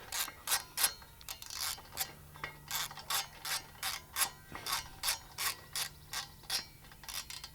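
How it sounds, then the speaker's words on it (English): A ratchet wrench tightens bolts on a tractor canopy with rapid, regular clicking bursts in a steady back-and-forth rhythm. The clicks are close and fairly quiet, repeating throughout with no talk. "So this is where these ratcheting wrenches come in real handy."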